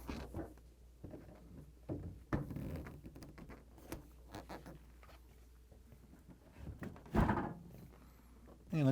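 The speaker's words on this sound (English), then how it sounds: "Next, I'm going to install the door." Clunks, knocks and rattles of handling hardware while installing the door of an LG/Kenmore refrigerator, with irregular close taps and one sharper thud near the end, and no talking.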